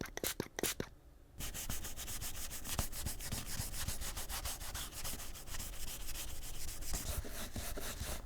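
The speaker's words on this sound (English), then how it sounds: "I'll clean the rest of the residue off with alcohol." Plastic headphone parts are rubbed with alcohol to strip paint residue, producing a close, continuous rapid scrubbing rasp after a few brief opening strokes.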